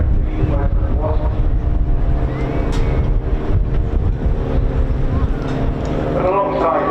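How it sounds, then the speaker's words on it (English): Turbine whine of the Nimbus engine on a Westland Wasp helicopter at the Bournemouth Air Festival air show, a steady droning hum with wind buffeting, under a commentator's talk. "That unique whine you can hear there coming from the mighty Nimbus engine of the Western Wasp."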